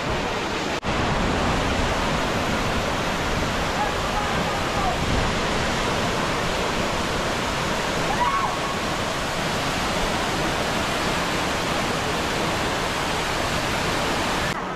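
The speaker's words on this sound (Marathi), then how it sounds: "बघू शकता माझा केवढा मोठा धबधबा आहे हा" Navaja waterfall at Ozarde near Koynanagar roars as a loud, steady broadband rush that fills the whole stretch close by, with spray thick in the air.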